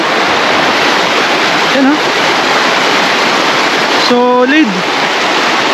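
A river rushes loudly and steadily near a free riverside campsite, a dense broad roar of flowing water that fills the whole scene, while someone briefly speaks over it.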